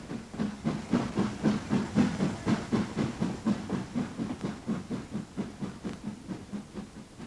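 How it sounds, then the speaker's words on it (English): The last steam freight train on the route works past with a strong rhythmic chuffing exhaust, evenly spaced beats that stay loud and close before easing slightly toward the end. "a flashback to the last steam freight train to use the route"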